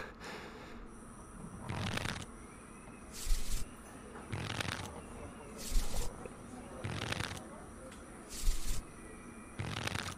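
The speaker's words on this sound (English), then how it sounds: "Shuffling." Playing cards are shuffled several times in a quiet room, each riffle a short crisp burst of flutter recurring every couple of seconds.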